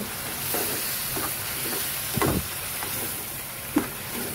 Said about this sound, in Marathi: आपला 5-10 मिनिटं असं जरा तेलात परतून घ्यायचं